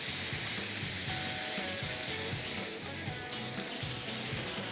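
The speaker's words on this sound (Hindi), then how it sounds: "हल्का से इसको सॉटे करेंगे।" Chicken sautéing in a pan with about a quarter cup of water added, a steady close sizzle and bubbling hiss with occasional stirring scrapes, continuous throughout.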